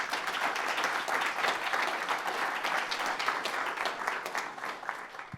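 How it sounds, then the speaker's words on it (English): An audience at a Denver Metro SBDC Trout Tank pitch event gives a steady round of applause, a dense wash of many hands clapping at a moderate distance throughout. "So a big round of applause for Mike and Colorado Lending."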